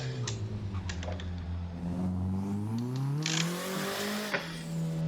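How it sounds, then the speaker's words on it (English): A car engine drones and rises in pitch as it accelerates through the gears around the Okuibuki track, with some tire noise and light clicking sounds on top, heard close and steady with no talking. "So we can drive back around the top."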